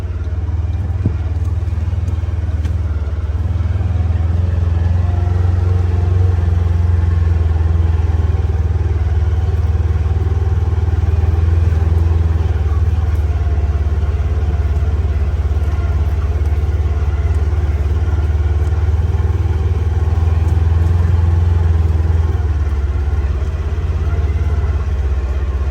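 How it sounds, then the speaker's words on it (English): A car rolls along slowly with its engine running, giving a steady low rumble that lasts throughout, with light clatter over it and no voices. "I'm going to drive around real slow"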